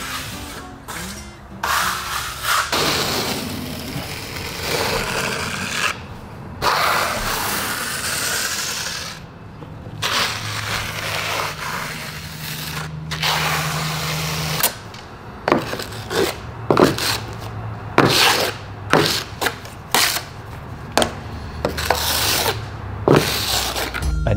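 A steel trowel spreads Limestrong lime plaster base coat across a wall for a marble finish, making repeated close scraping and rubbing strokes with short pauses and no talking.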